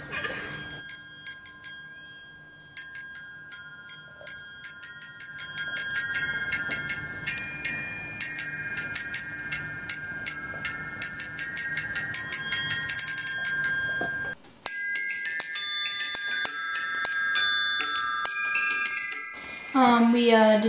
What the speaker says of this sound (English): And then those go to the bells, little clappers inside here